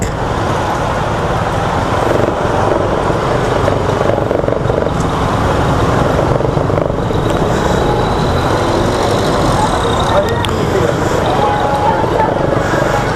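Heavy Friday road traffic, a loud continuous rumble of cars, buses and trucks nearby, with engine swells and a brief high whine, while someone talks over it.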